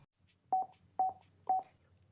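Three evenly spaced short electronic beeps from a Cardo Scala Rider Freecom 2 motorcycle intercom speed dial, clean and close with quiet gaps between them.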